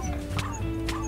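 A little dog in a video game gives two short, sharp yips close together over a steady humming game background.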